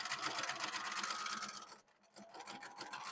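A sewing machine stitching fabric pieces for a scrap-busting scarf, a steady fast whirring hum close to the microphone, briefly pausing near the end before running again.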